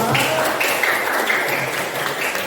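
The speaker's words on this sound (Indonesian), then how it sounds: "Tepuk tangan untuk kita semua." A school audience at a teachers' arts-performance gathering claps together. Steady, close, fairly loud applause fills the whole stretch, with faint voices mixed in underneath.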